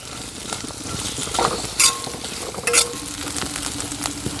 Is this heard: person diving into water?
no